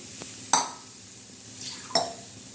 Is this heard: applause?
no